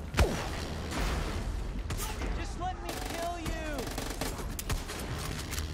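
Gunfire in the Far Cry 6 shooter game, a rapid run of sharp shots and bursts with mechanical clatter, moderately loud, with a player talking intermittently over it.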